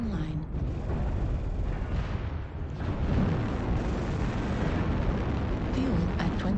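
Artillery strike explosions in the MechWarrior Online video game form a dense, continuous roar of overlapping blasts and rumbling booms that stays loud throughout.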